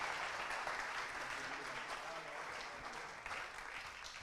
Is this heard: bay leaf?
no